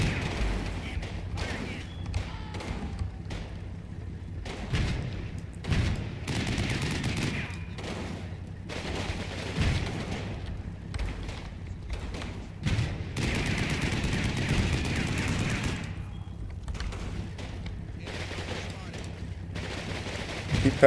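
Gunfire rattles through a WWII Normandy tank battle in the Combat Mission strategy game, with scattered shots, bursts and thumps at irregular intervals over a low rumbling background, moderately loud, with brief voices at times.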